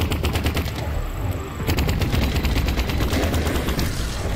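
Rapid bursts of gunfire from the video game Vertigo Remastered, aimed at a creature's eyes, come loud and close as a dense, continuous rattle with a brief lull partway through.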